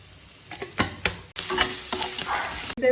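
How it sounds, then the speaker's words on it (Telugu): Mixed vegetables fry over a high flame for veg fried rice, a close hissing sizzle with a few knocks of a utensil, cutting out briefly twice with no talking. "వెజిటేబుల్స్ అన్నీ వేగిపోయినాయండి."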